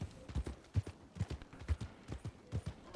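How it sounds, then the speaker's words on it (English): A horse ridden in Red Dead Redemption 2 trots with a loose, rhythmic clip-clop of hooves and soft thuds at moderate volume, with no talk over it. "Let's get her going, horsey."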